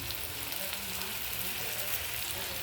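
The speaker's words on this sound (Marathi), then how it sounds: "ते फोडणीतच घालून घ्यायचे आपण कोकम आणि छान प्रकारे परतायचं." Kokum pieces sizzle in hot tempering oil for Konkani-style sukat, a steady close-up crackle and hiss of frying with no pauses and no voices.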